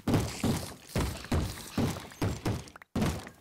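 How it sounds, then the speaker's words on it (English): Heavy, repeated bangs on doors in a video game, about eight loud thuds in a steady rhythm roughly every half second, close and alone, with one brief silent gap before the last blow. "Would you stop banging on doors?"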